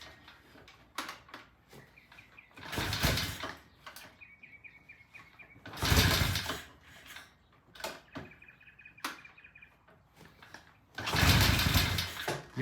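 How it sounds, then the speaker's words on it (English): A vintage British motorcycle is kick-started from cold, with three loud, rough bursts as the engine briefly fires between quieter stretches of clatter and kicking, never settling into a steady idle. "this is a cold start, so it may take a few kicks, and these things are hard to kick"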